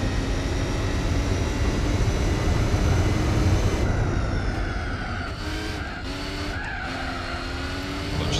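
A race car in Gran Turismo 4 brakes hard and skids, its engine droning loud and continuous while tire squeal rises and wavers through the second half, no talking.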